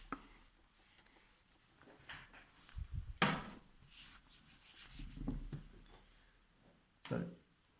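Rubbing strokes across a board while clearing old maths working, a few soft scrubbing swipes with brief louder wipes, close and fairly quiet, with no talking.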